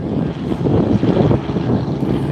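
A helicopter passes by at Cedar City airport, a loud, rumbling rotor and engine noise that swells and eases over a couple of seconds, with wind buffeting the microphone.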